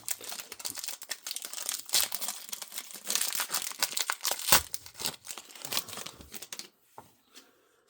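A 2025 Topps baseball card pack wrapper is torn open and crinkled close up, a busy run of crackling plastic rustles and rips that fades to a few last crinkles.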